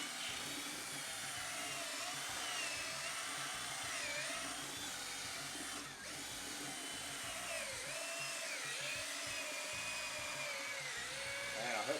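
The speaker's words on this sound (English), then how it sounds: "I'm just using my little Black & Decker cordless drill here with the attachment on here." A whining motor drone with wavering pitch runs steadily throughout, a small Black & Decker cordless drill with a mixer attachment churning thick tile mortar, fairly quiet.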